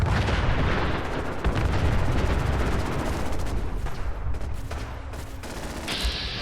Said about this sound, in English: we are near the distress beacon and can hear gunshots and explosions, so we rush in